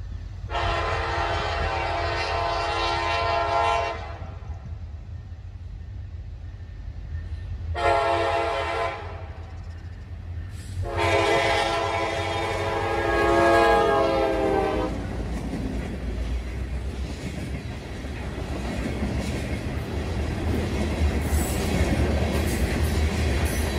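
A freight train led by CSX Chessie 1973 rumbles past close by on the Cowan grade over Cumberland Mountain, sounding its horn in three long blasts over the steady roar and clatter of the rolling cars.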